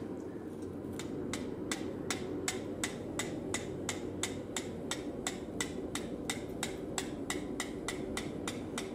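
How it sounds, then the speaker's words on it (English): Steady, evenly spaced metallic strikes of a hammer on a chisel splitting hot steel over an anvil, about two to three blows per second, close and sharp over a constant low roar of a forge fire. "we're going to work the chisel to the left and right to get this thing spread out a little bit more, hopefully without any galling"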